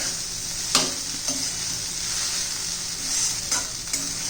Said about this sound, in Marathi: आता बटाटा घातल्यावर दोन तीन मिनटं चांगलं परतून घ्यायचं